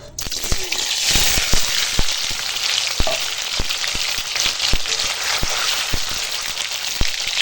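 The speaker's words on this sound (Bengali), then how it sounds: "এখন তেল গরম হয়ে গেছে পনিরটা ভেজে নেব" Cubes of paneer frying in hot oil give a steady, close sizzle with scattered sharp pops and spatters throughout, no talking over it.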